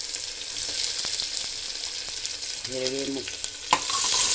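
Cumin, mustard seeds, garlic and onion sizzling in hot oil for a sprouted moth bean curry, a loud, steady close hiss with stirring scrapes. A brief spoken word cuts in partway through.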